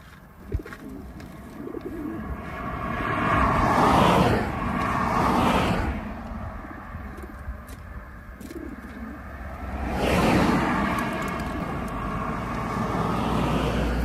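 Racing pigeons coo in soft, rolling murmurs before release, a flock close by with swelling gusts of low noise and traffic in the background.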